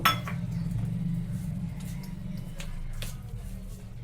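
Beguni batter being mixed with water added a little at a time in a bowl, giving close, light clinks and taps of a utensil against the bowl over a low steady background hum.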